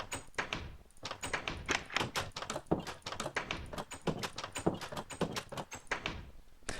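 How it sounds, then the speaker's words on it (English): Old beta Minecraft wooden door sound from a video game: a fast run of repeated wooden clunks and taps that keeps going almost without a break. "the wooden doors in this game now occasionally make the very old beta Minecraft sound"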